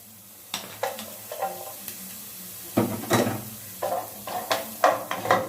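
Onion is added to a heated pot for egusi soup cooked without oil, giving soft sizzling and scraping stirs with repeated light clinks of a utensil against the pot, close and moderately loud.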